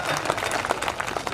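Audience applause at a Hindi comic poetry recital (kavi sammelan), a brief, steady burst of many hands clapping with no voices on top.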